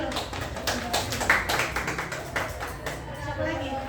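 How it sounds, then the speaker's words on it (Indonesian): A small group in a group guidance session claps briefly, a loose, moderately close patter of hand claps lasting a few seconds, with some voices murmuring underneath. "Tepuk tangan dulu."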